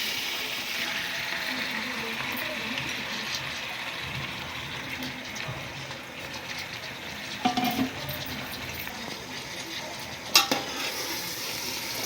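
Marinated chicken frying in oil with bay leaves and cardamom, sending up a steady loud sizzle throughout, with a few sharp clinks of a utensil against the pan.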